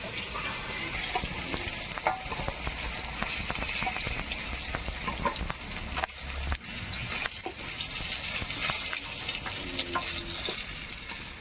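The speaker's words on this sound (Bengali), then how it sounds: "মাছগুলো ভাজা হয়ে গেছে মাছগুলোকে তুলে নেবো" Fish pieces fry in hot oil in a pan, giving a loud, dense, continuous sizzle and crackle with occasional scrapes of a utensil, close and steady throughout.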